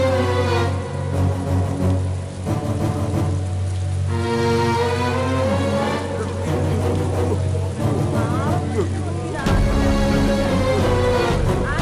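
Heavy rain with wind pours steadily and loudly, a dense, unbroken wash of sound.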